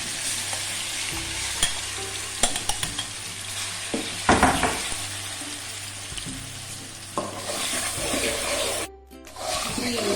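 Mutton liver fries in oil in a kadai, a continuous close sizzle punctuated by scraping stirs and clinks of a spoon against the pan, with a brief dropout near the end.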